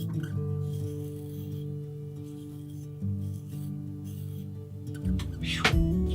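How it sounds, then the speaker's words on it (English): A steel knife blade is drawn across a wet sharpening stone, giving a faint, steady rasping rub with a few louder strokes near the end. "The stone will last a long time if you keep it wet."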